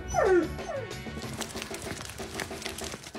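A dog lets out a short rising-and-falling howl like a siren, then yips and whimpers, followed by softer barks and background noise.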